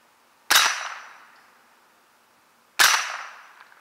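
Two sharp gunshots from a CMMG Bravo .22LR rifle, fired about two seconds apart, each a crisp crack with a short ringing decay, loud and close with no talking.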